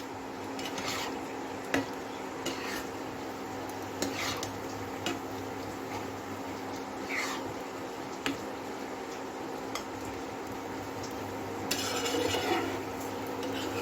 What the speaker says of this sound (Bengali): এরপর আমি ওই ভেজে রাখা ফুলকপিগুলো এর মধ্যে দিয়ে দিলাম, দিয়ে এটা ভালো করে আবার নাড়াচাড়া করছি।